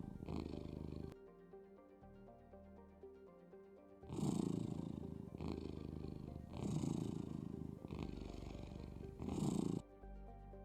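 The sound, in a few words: cat purr sound effect in VRChat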